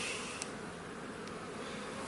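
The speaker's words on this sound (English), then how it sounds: "I got a bee crawling on my foot" Steady close buzzing of a honeybee around a beeyard with unpainted hive boxes, a continuous drone without pause and no voices over it.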